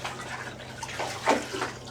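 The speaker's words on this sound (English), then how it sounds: "I'm running out of hot water" Hot water runs from a tap into a basin, a soft continuous gush with a few louder splashes near the middle, close by and without speech.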